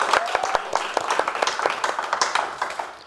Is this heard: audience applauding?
yes